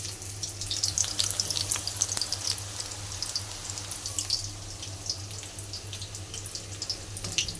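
Pakoras frying in a pan as they are turned over, a steady crackling sizzle with bright spitting pops and light clatter, close and without talk.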